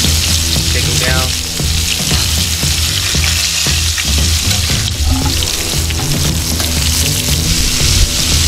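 Pork chops frying in hot oil on a Camp Chef outdoor stove: loud, dense, continuous sizzling and bubbling close up, with occasional clinks and scrapes of a utensil and faint voices underneath.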